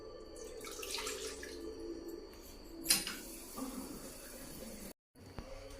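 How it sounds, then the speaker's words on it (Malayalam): Five glasses of water poured into a pot, coming in short splashing gushes separated by pauses, fairly quiet and close. "ആദ്യം ഒരു ചട്ടിയിൽ 5 ഗ്ലാസ് വെള്ളം എടുക്കാം."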